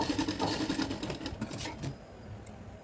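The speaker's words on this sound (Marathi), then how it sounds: "व्यवस्थितपणे गोलाकार अशी शिलाई मारून घ्यायची आहे." A sewing machine stitches a round neckline on a cut-work blouse, a close, rapid mechanical whirr that runs steadily for about two seconds and then stops, with no talking.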